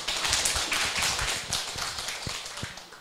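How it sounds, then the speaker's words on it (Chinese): Audience applause for a lecturer at a lecture class, a dense patter of many hands clapping at steady strength for about three seconds, with a few sharper close claps standing out near the end. "请大家以热烈的掌声欢迎他。"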